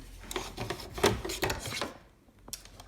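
Hoop being removed from an embroidery machine after stitching an in-the-hoop key fob, giving a quick run of scraping, rubbing and clicking handling noises close by, then going quiet.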